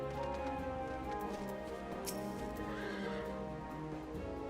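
Horse riding in Final Fantasy XIV: steady clip-clop hoofbeats with a neigh partway through, over a continuous music bed, close and even in level.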